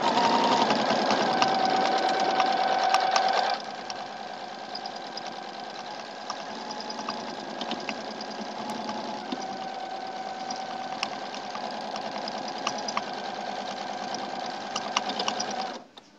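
A sewing machine runs steadily while quilting along the border of a log cabin quilt, a loud rapid needle drone that shifts to a slightly lower, softer hum after a few seconds and stops abruptly at the end.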